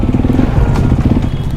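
A Honda CRF 250 dirt bike engine thrums steadily and close, a loud, even, pulsing rumble without clear throttle swells.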